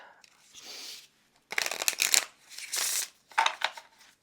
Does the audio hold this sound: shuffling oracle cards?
yes